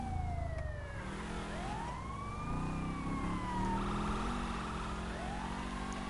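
An EMS ambulance siren wails and yelps as it passes along a road, rising and falling sweeps over traffic rumble, moderately distant and fairly faint.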